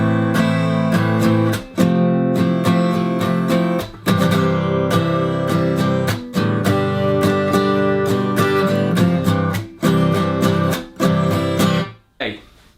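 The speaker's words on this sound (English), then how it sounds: "you can keep the classic down, down, up, down" An acoustic guitar strums a C with G in the bass moving to G in a down, down, up, down pattern. The chords ring loud and full with steady rhythmic strokes and brief gaps between bars.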